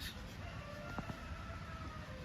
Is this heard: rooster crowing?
yes